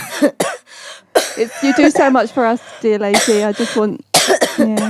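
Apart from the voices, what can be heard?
coughing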